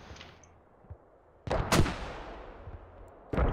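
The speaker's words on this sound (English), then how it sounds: "SRG just lobbing mortars at somewhere over here. They're hitting actually right next to the enemy hab." Mortar rounds and explosions in the video game Squad: two loud, sharp blasts with a ringing tail, then a third starting at the end, after a quiet stretch.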